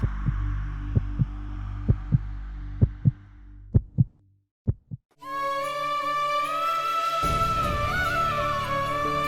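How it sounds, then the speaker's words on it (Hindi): Fast heartbeat sound effect in a Hindi TV drama, repeated thumping beats over a low hum that speed up, then give way to a swelling dramatic music cue. "ये और हमारा दिल का धड़कन काहे तेज हो रहा है?"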